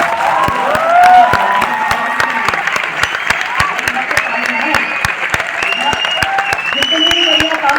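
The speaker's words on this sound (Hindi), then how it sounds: "जितनी बढ़िया ताली बजाओगे मैं उतना बढ़िया वाला बताऊंगा आपको" A crowd at a success celebration claps in a loud, rhythmic, evenly paced beat while voices and cheering carry on over the clapping.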